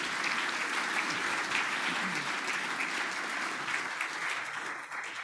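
A crowd applauds steadily at a leadership election debate in Lethbridge, continuous clapping at moderate volume from an audience hall, fading slightly toward the end.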